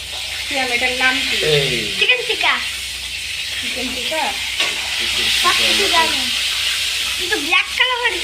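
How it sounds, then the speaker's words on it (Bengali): Hot oil sizzles with a steady hiss while chicken tikka fries, and someone talks over it with occasional stirring clatter. "তেল ফুটতেছে অলরেডি"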